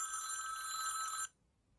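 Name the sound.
Samsung Galaxy Thom Browne edition ringtone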